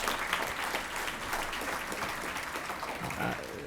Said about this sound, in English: Let's give a round of applause to Heather Bracetti.